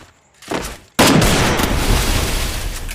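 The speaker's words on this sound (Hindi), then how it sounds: "ओ भाई 2 शॉट अब चला है पर डैमेज नहीं पड़ा।" Gunfire in a shooting video game with an M4A1 rifle: a faint muffled shot comes first, then a sudden loud burst of rapid fire and rumbling booms that carries on without a break.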